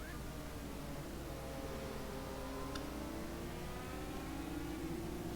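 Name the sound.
Ford engine race car revving, from a racing video game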